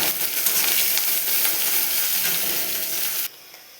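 Chopped onion hitting hot oil with already fried garlic, a loud steady sizzle and crackle that holds for about three seconds, then drops away abruptly.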